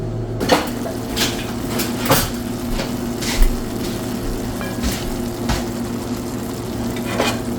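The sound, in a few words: vegan cheese steak cooking in pan with chili oil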